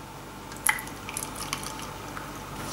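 Hot coffee jelly mixture poured into a mold, giving soft wet drips and small splashes close by, with a few sharp liquid clicks over a quiet background.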